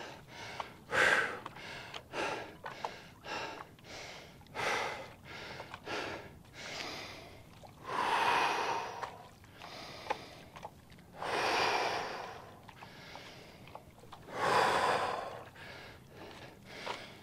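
After 200 m sprints, a runner breathes heavily with repeated loud, ragged gasps and huffs close by, some breaths longer and rasping, with short pauses between them.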